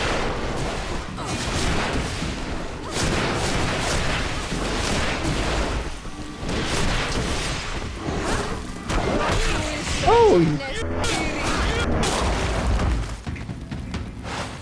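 Explosive potions go off repeatedly in Greedfall amid a busy battle, with dense booms and crashes layered under battle music, and a man exclaims briefly.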